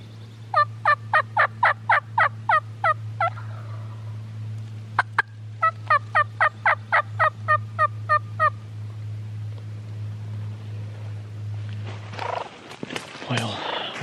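A wild turkey gobbler on Mississippi public land gobbles twice in quick rattling bursts, each a rapid series of pulsing notes, at moderate distance over a steady low hum, with a rustle near the end.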